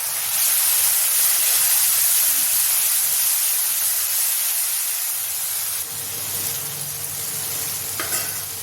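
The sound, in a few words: water added to hot tomato masala, hissing with steam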